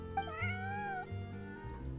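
A cartoonish cat in the video game Genshin Impact gives a drawn-out, wavering meow, then a shorter one, over a steady low game-music drone.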